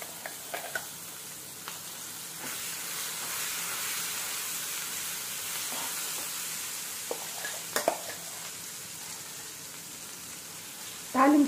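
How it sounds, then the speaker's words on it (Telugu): Tomato and dry chilli pickle sizzles in a tempering of oil with curry leaves, a steady, soft frying hiss with occasional stirring clinks and scrapes of a spoon in the pan, ending in a sharper clatter. "తాలింపులో 1 నిమిషం ఈ పచ్చడిని కలుపుతూ ఉన్నాం."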